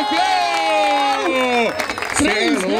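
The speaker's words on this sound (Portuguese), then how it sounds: "Palmas para o Refel!" Crowd at a Brazilian rap battle final in Barueri claps and cheers loudly and continuously, the applause mixed with overlapping voices and shouting throughout.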